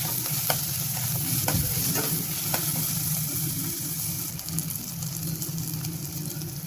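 Chopped onions and tomato being sautéed in a pot with a continuous loud sizzle and hiss, a spoon scraping and tapping the pot now and then.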